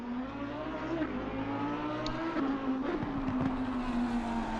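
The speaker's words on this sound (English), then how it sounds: "We can hear him revving the car up" A GT race car engine drones steadily at a distance on the Nurburgring circuit, with small revving wobbles in pitch and a constant background roar.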